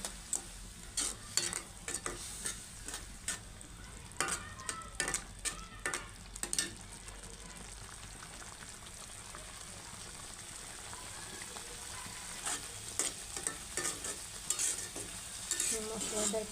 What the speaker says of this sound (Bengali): মশলাটা একটু কষিয়ে নিয়ে